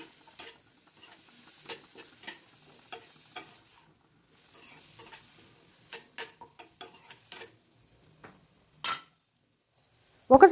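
Stirring chopped tomato, onion and carrot in a frying pan for tomato soup: scattered scraping and tapping of a spoon against the pan amid faint sizzling, close and quiet, with a louder clatter at the end.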